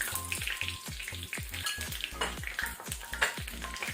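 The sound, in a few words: curry leaves sizzling in tempering oil for sambar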